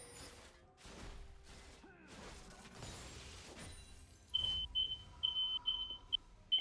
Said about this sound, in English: Is that your fire alarm? That's my oven, yes.